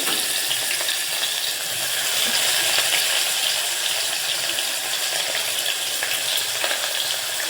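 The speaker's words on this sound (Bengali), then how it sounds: "তেলটা গরম হয়ে গেলে এটাতে দিয়ে দেবে পেঁয়াজগুলো।" Onions sizzle in hot oil in a pot for egg biryani, a dense, steady hiss that holds at an even level throughout with no talking.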